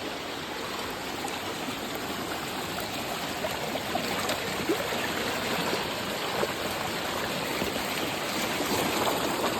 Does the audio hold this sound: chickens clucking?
no